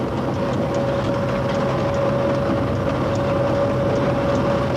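CC 6524 electric locomotive hauling a passenger train out of Paris Austerlitz at speed, heard from the cab as a steady, dense rumble with a constant electrical whine running throughout.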